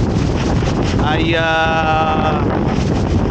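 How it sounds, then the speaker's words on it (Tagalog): Strong typhoon wind roars and buffets the microphone in Masbate, a dense, loud, continuous rush with a brief voice heard partway through. "Sobrang lakas ng hangin"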